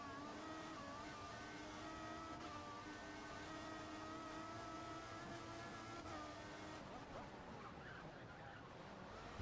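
An F1 race car engine in the game F1 2014 drones steadily at high revs throughout, a sustained tonal whine with a muffled, slightly distant quality that shifts near the end.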